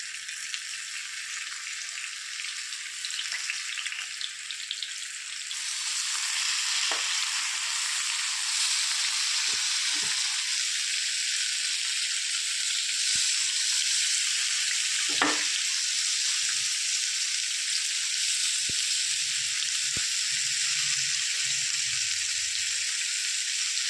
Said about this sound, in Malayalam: ഇതിലേക്ക് ഈ നമ്മൾ മസാല പുരട്ടി വെച്ചിരിക്കുന്ന പാവയ്ക്ക ഓരോന്നായിട്ട് വെച്ച് കൊടുക്കാം.